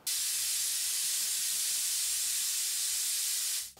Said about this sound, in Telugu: 3 విజిల్స్ వచ్చాయండి.